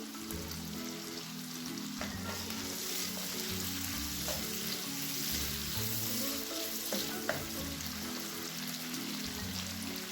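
Two green chillies sizzle and fry in a pan of oil while chilli chicken is cooked, a steady crackling hiss with soft stirring knocks and scrapes throughout, no voices.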